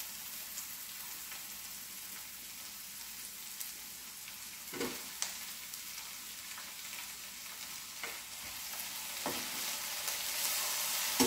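Tomatoes, red chilli and curry leaves sizzle as they are sautéed for tomato chutney. There is a steady, close frying hiss with occasional crackles and stirring clatters, and no talk.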